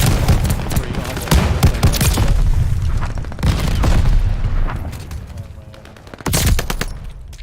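Shotgun and other gunfire in the video game Call of Duty Modern Warfare 2, with loud repeated blasts and bursts of rapid fire coming in clusters, under occasional player talk.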